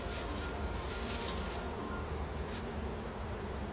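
Honeybees buzz steadily and densely as they are shaken off a bag during beekeeping, a continuous close hum with no talking over it.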